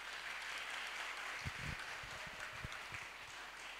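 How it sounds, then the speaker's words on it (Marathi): An audience at an agricultural guidance session on grape pruning claps for the speaker, a faint, distant patter of applause over room hiss with a few louder thumps. "त्याबद्दल सरांसाठी सर्वांनी जोरदार टाळ्या वाजवायच्या आहे"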